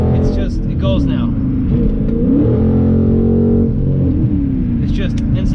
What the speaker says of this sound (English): every time I tap on the gas, it's just, it goes now.